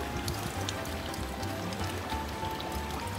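Clear spring water from the Shirakawa spring in Japan pours and splashes steadily and close, a continuous burbling stream with no talk over it.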